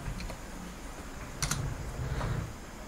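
Keystrokes on a computer keyboard typing into a web browser search bar, a few soft close clicks with a small burst around the middle, fairly quiet with no talking.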